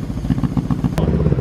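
A Riva 500R motorcycle engine runs on both cylinders, a loud, close, rapid, uneven thumping idle with clattery mechanical noise throughout.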